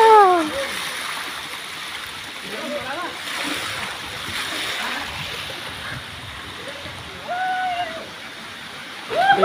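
Cold spring waterfall water splashes and rushes steadily in the background while people talk nearby.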